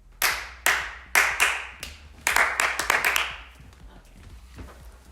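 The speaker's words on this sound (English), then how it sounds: "Okay, recording. With a clap." Close, sharp hand claps in a quiet room at the start of a recording session: several single claps spaced about half a second apart, then a quicker cluster of lighter claps trailing off.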